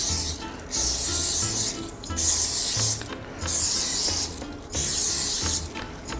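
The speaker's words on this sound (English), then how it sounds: "Take some olive oil spray and final touches. Individually spray each of them." Olive oil spray hissing in four separate short bursts over seekh kebabs made from ground beef, each spray a close, bright spritz with brief pauses between.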